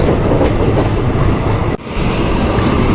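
Steady low rumble of an INKA CLI 225 electric commuter train rolling along rails in Indonesia, heard from inside, with a brief dip and click midway.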